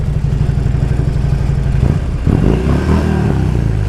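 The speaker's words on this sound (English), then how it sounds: "Rev bomb my bro" A vehicle engine is revved hard in a short burst: a steady low idle rumble, then a sharp blip around the middle that climbs and falls in pitch before settling back to a loud, close idle.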